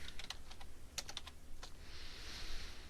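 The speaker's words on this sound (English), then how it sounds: "The discharge diagnoses can be typed in." Light typing on a computer keyboard in a hospital cardiac care unit as discharge diagnoses are entered. Scattered soft key clicks in short bursts sit over a steady room hum, with no one speaking.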